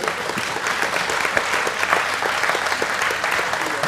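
Audience clapping at a political talk event, a steady dense patter of many hands held at moderate volume for several seconds, heard from some distance.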